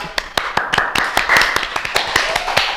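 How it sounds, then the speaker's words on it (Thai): An audience applauding at a Thai film event, a quick burst of sharp, irregular hand claps from a small group, with a voice faintly heard under the clapping. "ปรบมือครับ"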